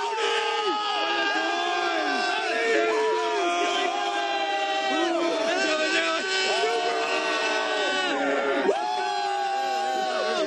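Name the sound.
crowd at Cleveland Browns 0-16 parade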